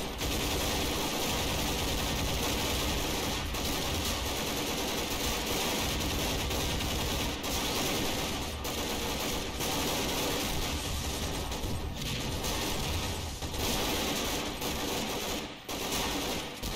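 Sustained automatic gunfire in a Garry's Mod SWAT versus Mr X fight, loud continuous rattling bursts with brief gaps, no talking over it.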